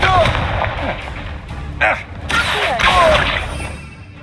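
Hogwarts Legacy combat with the Confringo fire spell: repeated blasts and whooshing fiery impacts over a rumbling game soundtrack, loud and dense, with a voice calling out spells throughout.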